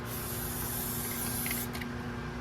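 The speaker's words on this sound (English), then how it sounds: "get some WD-40 down in it" WD-40 lubricant sprayed into a part of a 6.7 engine pulled from the truck, a steady close hiss running the whole time, with a faint clatter near the end.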